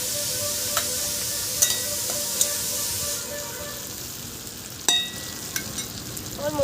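Onion and garlic fry with taro flowers in a village-style kitchen, making a steady hissing sizzle with occasional sharp clicks and spatula taps, close and continuous.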